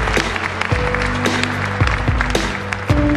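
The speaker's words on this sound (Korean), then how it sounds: "큰 박수 부탁드립니다." Audience applause at a welcome ceremony for South Korea's first homegrown KF-21 Boramae fighter jet, a steady wash of clapping mixed with sustained band music throughout.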